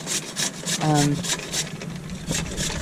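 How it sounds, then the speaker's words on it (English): A carrot grated on a cracked grater, rhythmic rasping strokes repeating about three times a second, close and fairly loud, with a brief voice in the background. "trying to grate a carrot"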